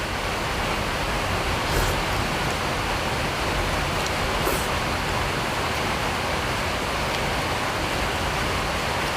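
Steady, even hiss of rain falling, continuous and fairly soft, with no voices and no other sounds breaking through.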